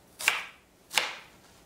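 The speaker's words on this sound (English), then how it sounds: "slice the shallots the same way we did the onions" A kitchen knife slices through shallots on a cutting board, two crisp, close strokes about three-quarters of a second apart, with quiet in between and no talking.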